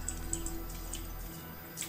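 A waterfall in the video game Far Cry New Dawn, heard as a steady, soft wash of flowing water with faint drip-like splashes near the surface and no voices.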